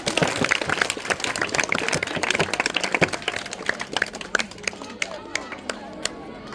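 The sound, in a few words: audience applause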